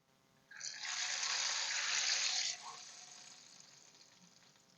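Garlic tempering for masoor dal sizzles loudly in hot oil for about two seconds, a dense broadband hiss that then drops away and fades to a faint simmer.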